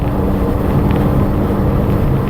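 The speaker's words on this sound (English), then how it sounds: "I just like the sound of the engine." A Volkswagen GTI MKV cruising in fifth gear at highway speed, heard from inside the cabin as a steady, loud low engine drone blended with road and wind rumble, unchanging throughout.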